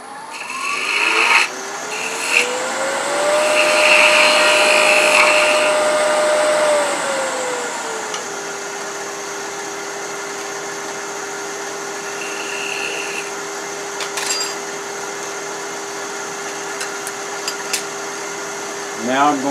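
Wood lathe turning a chess piece head down to a 5/8 inch ball, a steady motor whine rising then holding, with broadband scraping and rasping of cuts early on, continuous throughout and fairly close.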